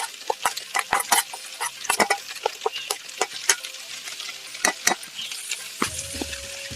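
Brinjal masala sizzles and crackles in hot oil, with bursts of pops and the scrape of stirring close by, carrying on steadily with a low rumble near the end.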